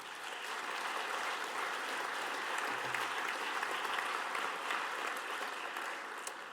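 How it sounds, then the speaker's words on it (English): Steady applause from a conference audience at a volunteer awards event in Portsmouth, a dense even patter of clapping holding at a moderate, slightly distant level throughout with no voices over it. "I'd like to give you all a great big round of applause."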